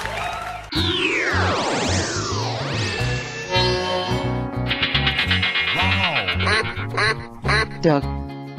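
Rapid, nasal duck quacks in choppy bursts over sweeping whooshing effects and music, loud and close with uneven rhythm; no talk.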